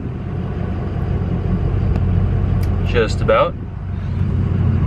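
A Ford 6.0 Powerstroke diesel truck engine idles steadily at operating temperature with a continuous low rumble, while someone talks briefly over it.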